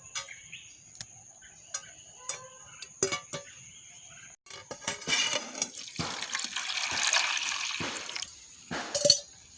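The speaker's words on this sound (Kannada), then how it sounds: "ನೋಡಿ ಈ ರೀತಿ ನಾವು ನೀರಲ್ಲಿ ಹಾಕಿದ್ದನ್ನು ಚೆನ್ನಾಗಿ ತೊಳಿಬೇಕು" Wild hog plums are swished and rubbed in a vessel of water, first a few sparse clicks and drips, then closer, sustained sloshing and splashing.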